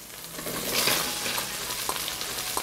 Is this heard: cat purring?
no